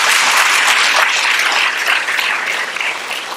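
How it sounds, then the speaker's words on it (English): Sustained applause from an audience at a hospital ribbon-cutting ceremony for a new regional health center, dense and steady for several seconds, easing slightly toward the end. "give him another round of applause"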